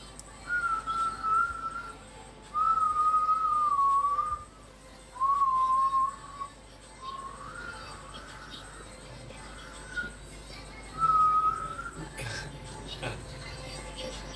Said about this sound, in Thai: ผิวปากทำไมฮะผิวปากทำไม